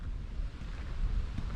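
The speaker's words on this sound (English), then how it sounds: "a bit windy" Gusty coastal wind at Palm Beach, Australia buffets the microphone with a low, rumbling roar that swells and dips throughout, with no voices.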